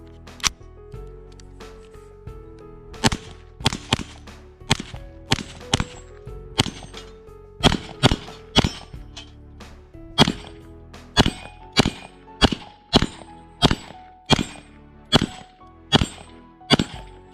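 Keltec CMR30 rifle fired through a magazine at an outdoor range, a string of about twenty sharp, loud cracks, irregular at first then in a quicker steady cadence.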